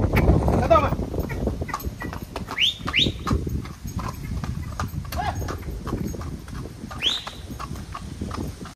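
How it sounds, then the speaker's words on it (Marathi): A decorated horse clip-clops steadily through a Chhatrapati Sambhaji Maharaj Jayanti festival procession in Chirner, with rapid hoofbeats, a couple of sharp whistles and crowd noise mixed in. "आता आपण बघू शकता माऊली घोडा उतरलाय सजवलेला आहे"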